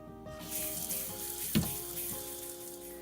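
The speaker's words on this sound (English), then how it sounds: "Now that we've got everything in the pot, we're going to add water up until it is" Tap water pouring into a pot filled with bones and ingredients for bone broth, a continuous rushing stream at moderate level with a brief splash midway, no talking.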